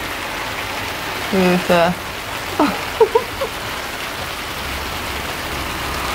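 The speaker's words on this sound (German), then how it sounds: "Es hagelt." Hail pelts down during a sudden storm, a steady hiss and patter throughout, with a voice speaking briefly and a few short sounds partway through.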